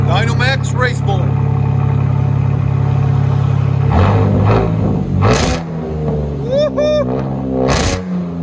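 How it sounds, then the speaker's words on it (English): A 2021 Chevy Silverado with a 4.3L V6 and a Dynamax race bullet exhaust idles with a steady low rumble, then revs loudly and sharply several times up close. Voices talk over it. "2021 Silverado. Dynamax race bullet."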